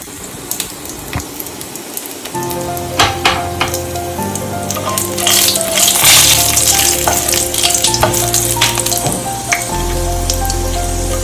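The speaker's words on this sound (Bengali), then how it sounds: "হালকা একটু আমরা ভেজে নেব।" Whole cardamom and black peppercorns fry gently in oil over low heat, a steady close sizzle with occasional stirring clinks and scrapes, growing a bit busier partway through, with a low background hum.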